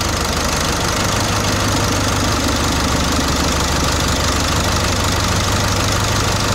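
A Dodge engine idles up close, with a loud, steady running drone and a fine, rapid ticking knock, and no voices.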